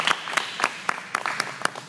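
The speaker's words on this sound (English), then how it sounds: "Let's take a round of applause." Sparse clapping at a press conference in Houston, a handful of distinct sharp claps spaced irregularly, close and fairly loud with little crowd wash behind them.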